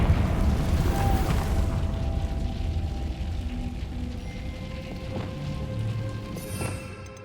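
Confringo blasting spell in Hogwarts Legacy, a loud deep explosive boom that rumbles and slowly fades over several seconds with crackling debris, no talk.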